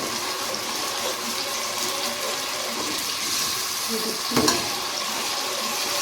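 Garlic sizzles in a pan as the base for a curry palak, a continuous close frying hiss with a brief clatter near the end and no clear voices.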